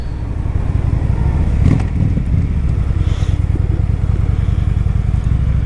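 A 2013 Honda Shadow 750 Phantom cruiser motorcycle being ridden and shifted through its gears, giving a loud, steady low engine rumble with one brief surge and no voices.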